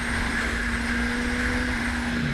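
Honda CBR1000RR sport motorcycle engine with a 44mm throttle body, droning at a steady high pitch while riding, close and loud under constant wind rush with no talk.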